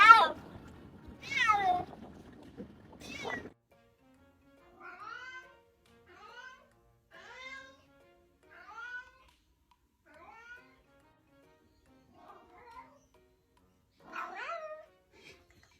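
Cats meow in a series of separate calls: three loud, close meows, then a string of softer, more distant mews, and one last clear meow near the end, with silence between them.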